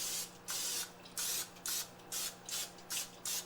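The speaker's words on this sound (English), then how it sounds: "And I'm just gonna spray it lightly." Short bursts of aerosol cooking spray onto a muffin tin hiss in a quick, regular series, about eight sprays, close and crisp against a quiet background hum.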